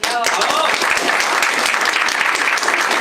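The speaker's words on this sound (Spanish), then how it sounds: "Un aplauso para los niños." A church congregation at a Sunday service applauds for the children. The dense clapping is loud and sustained for about three seconds, with a brief voice at the start and crowd noise mixed in.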